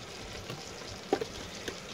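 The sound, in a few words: stirring gravy mixture in a pan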